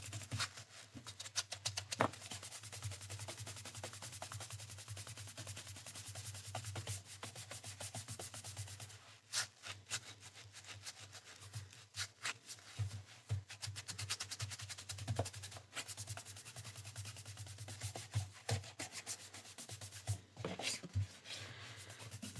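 Dusty edges of a 1930s hardback book are rubbed in steady, close, soft scrubbing strokes over a low constant hum, with occasional small taps and brief pauses.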